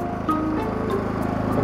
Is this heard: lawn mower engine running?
yes